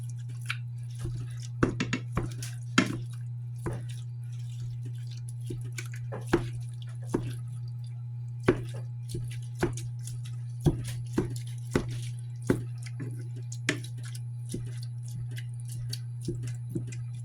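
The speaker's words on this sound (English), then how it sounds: "I'm just going to chop up my ground beef" Ground beef being chopped up with a utensil in a pan while cooking for garden spaghetti, giving scattered soft taps and scrapes over a steady low hum.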